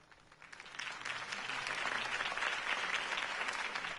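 A crowd applauds after a campaign speech in the Batman: The Telltale Series video game, a dense wash of clapping that swells from moderate to full and stays steady.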